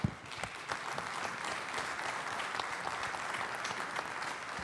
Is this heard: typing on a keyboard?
no